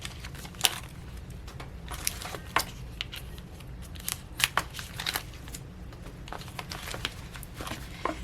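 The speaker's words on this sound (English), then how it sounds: "we can go ahead and cut off this plastic here" Scissors snipping through thin plastic on a vinyl craft fanny pack, a series of close, crisp cuts and crinkles in irregular bursts over a low steady hum.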